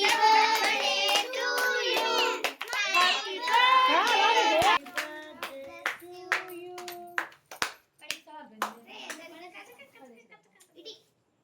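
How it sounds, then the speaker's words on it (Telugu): At a family birthday celebration at home, voices and children's singing fill the first few seconds. Scattered hand claps follow, sharp and fairly close, thinning out toward the end. "కొట্టండి క్లాప్స్."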